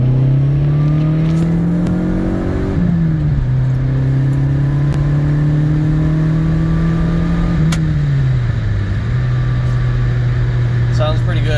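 A manual PT Cruiser GT pulling hard in second gear from around 3,000 RPM, its engine note droning loud and steady from inside the cabin, rising, dipping briefly as the load shifts, then climbing again.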